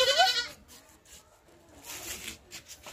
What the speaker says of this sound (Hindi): ओ बकरी बच्चे चल मुन्ना